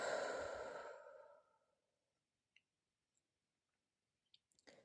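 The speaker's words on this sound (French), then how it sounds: "J'inspire et j'expire." A single slow, audible exhale during a guided meditation trails off into near silence, followed by a few faint clicks and small breathy sounds.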